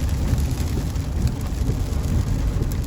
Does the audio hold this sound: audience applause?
no